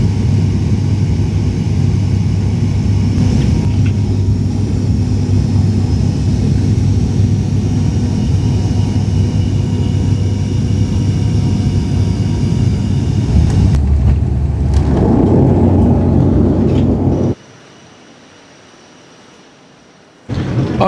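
Inside a 72-seat Emerald Airways passenger plane flying to the Isle of Man, a steady loud low engine rumble and cabin roar fills the air without pause, then drops away abruptly near the end before returning.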